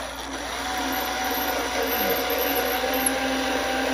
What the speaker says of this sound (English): I'm going to start with a small drill, and I'll go to a bigger one, and then we'll go to the step drill for the final.